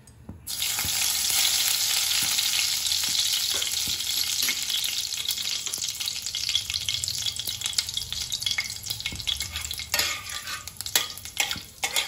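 Black cumin (kalo jire) seeds sizzling in hot oil, a steady, fairly loud crackling hiss that continues throughout, with occasional small clinks of a spoon or pan, no voices.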